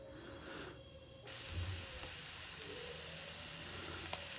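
Chicken pieces frying on a tava for a chicken roast, a steady close sizzle that starts abruptly after a quiet opening and holds evenly, with a brief clatter near the end.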